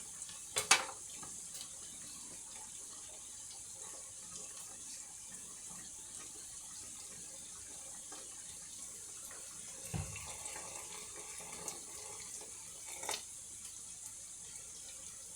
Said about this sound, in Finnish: Ja mä lisään sinne vielä nyt vähän vettä.